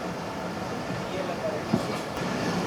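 The 33UP Pak Business Express of Pakistan Railway rolls slowly through a station, giving a steady, dense rumble of wheels and carriages that holds at an even level with a faint knock partway through.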